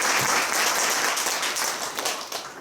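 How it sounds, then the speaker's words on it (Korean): Korean lecture audience bursts into steady, dense applause, many hands clapping together loudly and continuously without a break, fading slightly toward the end. "박수 한번"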